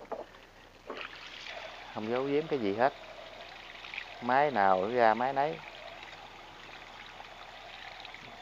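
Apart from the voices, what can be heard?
water discharging from Japanese Robin sprayer machine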